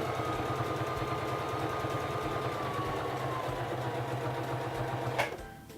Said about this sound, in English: Bring down your presser foot and begin sewing.